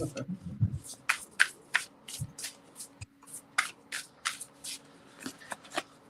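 Tarot cards are shuffled in a series of quick, crisp riffling bursts up close, with a faint steady hum behind them.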